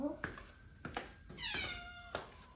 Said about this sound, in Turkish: Çünkü buradan kedi sesleri geliyor.